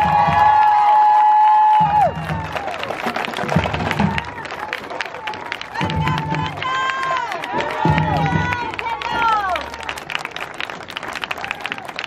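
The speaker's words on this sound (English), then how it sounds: "please give one more round of applause for the Ganado High School Marching Band" A stadium crowd cheers, whoops and applauds for the Ganado High School Marching Band, a loud, sustained roar with shouts and whistles on top and an announcer's voice briefly audible at the start.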